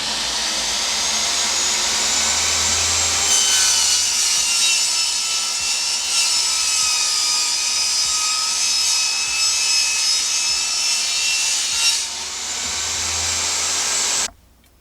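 A saw cuts through a wood flooring board during a campervan build, a steady loud high-pitched whine running nearly unbroken for about fourteen seconds before stopping abruptly.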